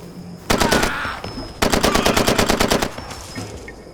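Two bursts of rapid automatic gunfire from the video game Far Cry 2, loud and close, the second burst longer, with a high electronic tone sounding between them.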